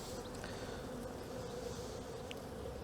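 Honey bees buzz in a soft, steady drone during a spring hive inspection after winter, faint and continuous throughout.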